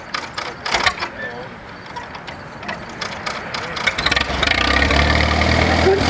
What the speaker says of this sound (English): Harvey Nelson has the Case tractor started.